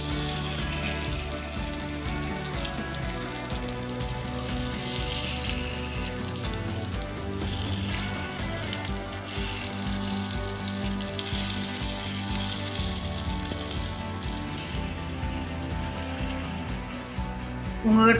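Egg snack batter cooks over a medium flame in a small-cup paniyaram pan, producing a soft, continuous sizzle that runs steadily underneath background music.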